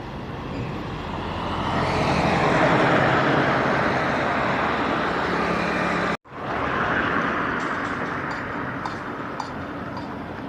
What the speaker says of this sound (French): il y a l'autoroute.